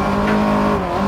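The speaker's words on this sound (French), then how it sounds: "Alors que l'on a des ratés moteurs" Rally car in the DiRT 4 racing game with its engine misfiring, a loud, steady, rough engine drone with tire noise, up close and with no voices.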